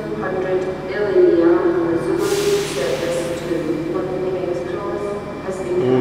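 A train idles at Edinburgh Waverley Station with a steady mechanical drone and a burst of hissing air, while voices murmur nearby.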